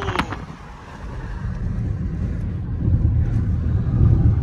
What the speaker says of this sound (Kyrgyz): Шамалдын үнүн угуз коюнбу?